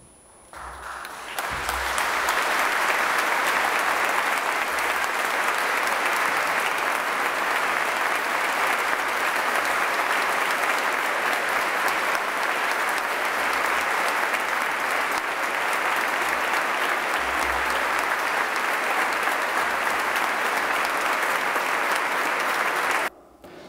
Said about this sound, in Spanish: los fieles irrumpieron en un sonoro y largo aplauso